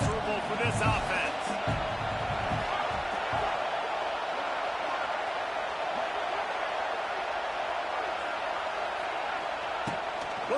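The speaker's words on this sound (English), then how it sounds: "This crowd trying to make life miserable for this offense." Steady roar of a stadium crowd in a college football video game (Auburn vs Michigan), a dense continuous wash of noise with commentary talking over it.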